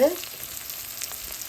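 A brief, soft sizzle comes from a salted tempering sautéing in a pan for a cabbage dish, with light crackling throughout.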